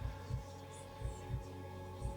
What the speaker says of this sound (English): Oh my, the heartbeats.